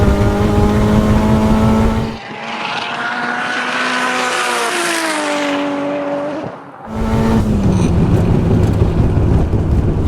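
A 600 hp Nissan S15 drag car screams loud and close, its engine pitch climbing steadily through the gears over several seconds, then cutting off abruptly as it passes, with heavy wind buffeting on either side.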